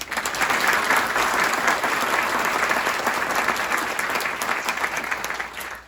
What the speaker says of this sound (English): let's give our instructors another round of applause